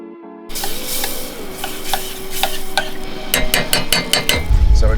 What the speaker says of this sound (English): So we're just going to let that simmer away.